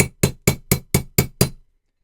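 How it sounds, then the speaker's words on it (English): A hammer strikes a punch seven times in an even, quick rhythm, driving a roll pin out of a SIG Sauer P220 Legion SAO pistol slide on an armorer's block; sharp close metallic taps, then silence. "we'll just drive the pin as far as we can go with our hammer"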